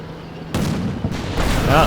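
A tank fires in the Combat Mission Black Sea video game, a few heavy distant booms with rumbling tails rolling under radio-style voices.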